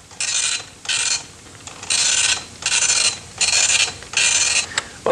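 An old computer printer runs off a script, its print head making six evenly spaced bursts of harsh, buzzing rasps separated by short pauses as each line prints, close and loud with no talking.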